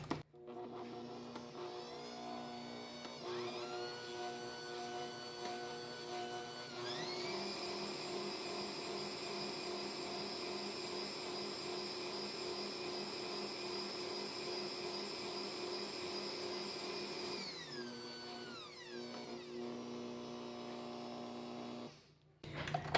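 An electric mixer beats peppermint frosting in a bowl, a steady motor whine that rises in pitch as it speeds up for a long stretch, then drops back and cuts off.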